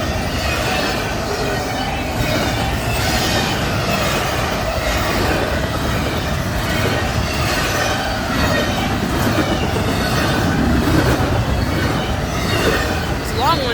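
An intermodal freight train rolls past the Winns Crossing Road crossing in Chapel Hill, Tennessee, making a loud, continuous rumble and rattle of wheels on rail, with faint squeals and a voice speaking over the noise.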